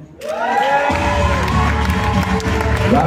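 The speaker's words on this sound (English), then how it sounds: "Round of applause for Dr." An audience at the Women in Film Awards 2023 at Kenya National Theatre cheers loudly for a best newcomer producer winner, with whoops, shouts and scattered clapping swelling into sustained crowd noise.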